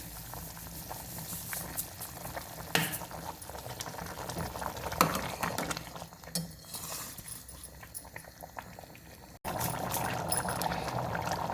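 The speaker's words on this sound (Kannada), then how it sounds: "ಈಗ ರವೆ ಹಾಕ್ತೀನಿ." Semolina being added to a pot of boiling salted water while making hotel-style upma, with bubbling, pouring and stirring sounds at close range, uneven bursts and clatter over a steady simmer, no talk.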